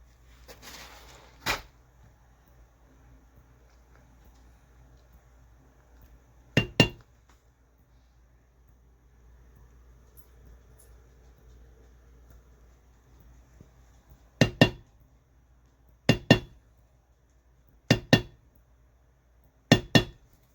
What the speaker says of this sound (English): I'm using my pear shader, the same thing I did in part 1